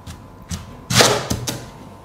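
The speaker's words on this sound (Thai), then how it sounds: "เราก็มาหั่นเลยนะครับ" A few blunt thuds and a firmer crunching chop of a knife cutting through a hard pumpkin on a board, close by, with no talking.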